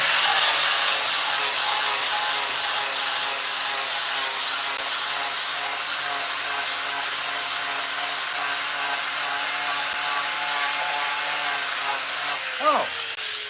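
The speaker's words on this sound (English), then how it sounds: "let me sand this" Wood being sanded with what sounds like a power sander, a steady, close, buzzing drone that holds unbroken for over ten seconds and wavers slightly near the end.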